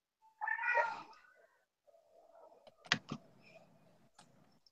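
A cat meows loudly and close, a drawn-out wavering cry followed by a few short sharp clicks and softer sounds, with no one talking over it.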